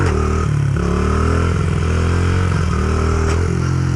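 A motorcycle engine held at a steady throttle during stunt riding practice, producing a loud, continuous hum whose pitch rises and dips slightly, close and alone, with no talking.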